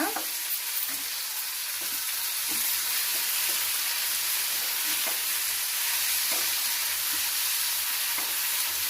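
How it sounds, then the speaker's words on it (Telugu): Coriander leaves and oil sizzle steadily in a hot pan while mint chutney is cooked, a constant close frying hiss with faint stirring clicks and no talking. "కొత్తిమీర వేస్తున్నాను, కొంచెం నూనె వేస్తున్నాను, కొంచెం మగ్గాల."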